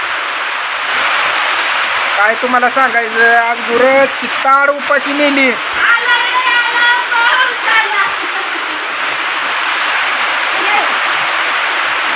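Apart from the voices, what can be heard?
heavy rain pouring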